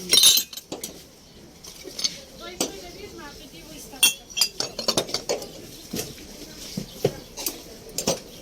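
Light porcelain cups clink and tap in scattered bursts, sharp and close, with brief pauses between them and a faint murmur in the background, at a flea market in Kyiv.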